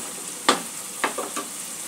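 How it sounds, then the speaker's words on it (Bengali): Yogurt masala for a Katla fish curry sizzles and fries in a pan, a steady soft hiss with three brief scraping stirs, close and clear with no talk. "মশলাটা পুরোপুরি কষা হয়ে গেছে"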